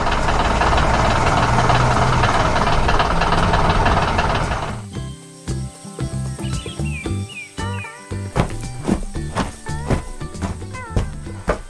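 A dense, steady wash of engine and machinery noise fills the first few seconds, then gives way to quieter clanks, knocks and chirpy bird-like calls.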